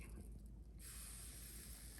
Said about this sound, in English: take some cooking spray and spray it on there